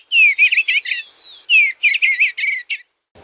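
Eastern Bluebird singing alone in two close, clear bursts of bright warbling chirps and twitters separated by a short pause, with no other sounds.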